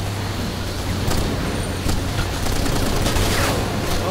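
Gunfire in a Conflict: Denied Ops firefight in Siberia, scattered sharp shots and bursts over a constant low rumble, fairly loud, without talk.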